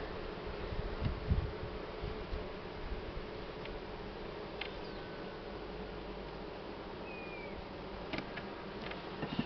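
Honeybees hum in a steady, faint drone over an opened hive during nest expansion, continuous throughout with no talking.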